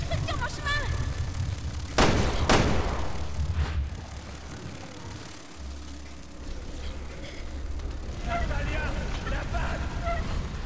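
Gunfire in Resident Evil: Revelations 2, with two sharp, loud shots close together and a fainter third shortly after, over a dense rumbling game backdrop while a voice talks.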